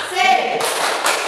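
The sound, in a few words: class doing the 'tepuk semangat' clapping chant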